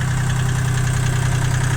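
A Kubota L1-20 mini tractor with a reverser idles close up, its engine giving a steady, low, throbbing rumble with an even mechanical knock.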